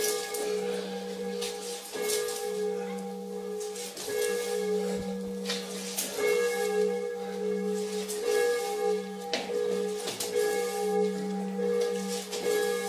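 A church bell in the bell tower of St. Thecla's church in Pławna, rung by hand, sounds in steady repeated strokes with a sustained ringing hum between them, loud and close throughout.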